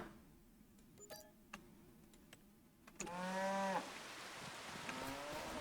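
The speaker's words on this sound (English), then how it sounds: "Of just your standard cows, your bovines." Standard cows in a farm setting give a single loud, drawn-out moo after quiet scattered clicks, with a faint hum of ambience underneath.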